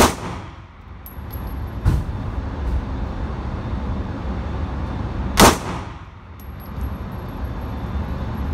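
Pistol shots fired outdoors: two loud, sharp cracks several seconds apart, each trailing off over a steady background rumble.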